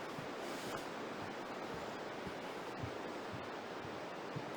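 The Aare river runs strongly with snowmelt through the Aareschlucht gorge, a steady broad rushing roar of water with no voices, faint and continuous.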